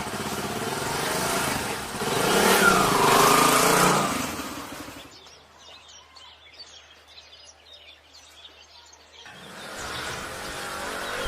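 Motorcycle engine running in an outdoor village setting, a rough steady drone that swells louder then cuts away, leaving faint birdsong before the engine noise returns.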